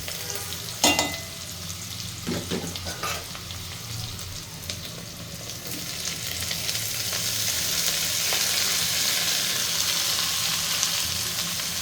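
Half-cooked onion and broccoli fry in a pan, with a few spoon-and-pan clatters early on and then a rising, steady sizzle close by.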